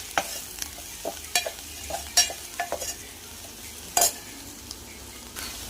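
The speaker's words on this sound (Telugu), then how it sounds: "నెక్స్ట్ ఆనియన్స్ కొంచెం గోల్డ్ కలర్ వేగిన తర్వాత పసుపు వేసుకున్నాను ఫ్రెండ్స్" Golden onions fry with turmeric in a pan for a bitter gourd curry, giving a low, steady sizzle broken by sharp spatula scrapes and clinks against the metal, heard up close.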